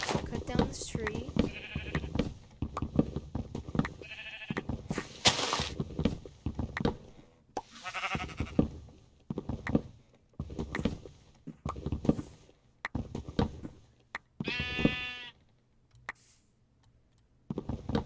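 Blocky Minecraft sheep bleat in short bursts amid a steady stream of game sounds, clicks and shearing noises while someone talks over much of it; the bleats come through at moderate volume between the chatter.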